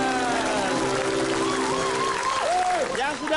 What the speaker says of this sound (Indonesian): Sekarang saya mohon tepuk tangan yang meriah juga ya untuk